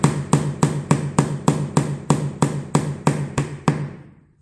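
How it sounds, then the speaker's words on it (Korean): A hammer drives a nail into wood with about a dozen evenly spaced, ringing strikes, close and fairly loud, the last blow fading out alone. "못의 머리가 안 만져지는 위치까지 못을 박으면 돼요."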